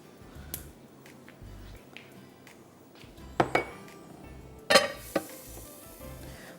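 Toasted almonds being tipped from a pan into a dish during biryani cooking, a series of sharp clinks and scrapes of metal and nuts with a couple of louder clatters, close and otherwise quiet.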